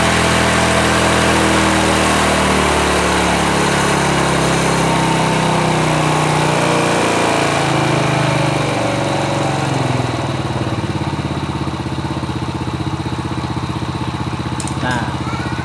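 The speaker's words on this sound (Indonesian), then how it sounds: "Nah, ini mesin sudah mulai meraung." Motorcycle engine with a standard carburetor running steadily and loudly throughout, revving at a constant high pitch during air-fuel mixture adjustment, close up with no talk.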